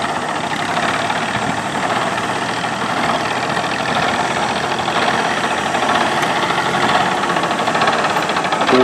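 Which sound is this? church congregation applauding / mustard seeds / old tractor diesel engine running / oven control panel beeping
old tractor diesel engine running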